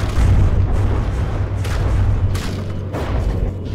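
Torpedoes explode against a vehicle in a video game, deep booming blasts over a heavy low rumble, with several bursts hitting in quick succession and staying loud and close.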